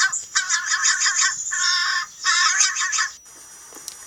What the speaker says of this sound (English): It's not a crow, it's a raven.